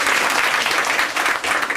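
An audience at a poetry reading in a café-bookshop applauds, a close, continuous patter of many hands that swells slightly and then fades a little.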